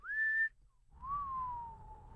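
A person whistles alone, first a short steady high note, then after a brief pause a longer, slightly lower tone that slowly slides down over faint background rumble.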